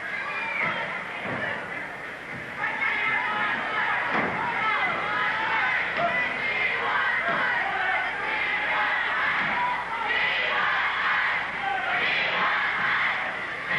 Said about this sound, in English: There's the cry from the crowd.